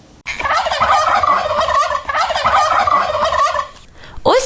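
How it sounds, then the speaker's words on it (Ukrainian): Loud, close turkey gobbling, a rapid warbling rattle repeated in two long bursts, then a sharp rising cry at the end. "Ось так кажуть індики."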